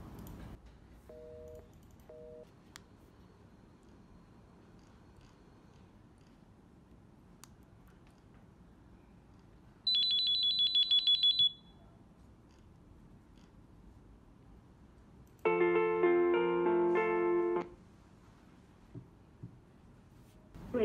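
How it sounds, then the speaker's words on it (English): A Wildix W-AIR DECT phone sounds its man-down alarm: two separate bursts of electronic tones, each about two seconds long, after a pair of short beeps, against a quiet background. "Alarm man down triggered in the marketing office."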